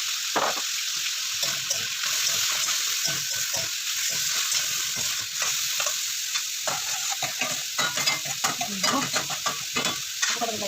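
Bitter gourd (ampalaya) is sautéed in a pan for adobo with bay leaf, a continuous bright sizzle broken by frequent close scraping and stirring clatter, with no talking.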